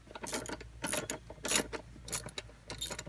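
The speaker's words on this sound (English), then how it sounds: "I'll go ahead and start finger tightening these bolts." Metal bolts on a throttle body gasket are spun in by hand, giving a few faint, quiet clicks and light metallic scrapes in short bursts.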